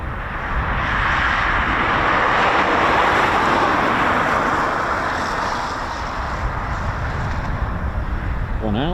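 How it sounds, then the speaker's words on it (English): A Eurofighter Typhoon FGR4 jet taxiing out for departure at RAF Coningsby, a loud, steady broadband engine roar and whine that swells slightly mid-way and holds, heard from fairly close with wind noise. "Got another Typhoon taxiing out for departure."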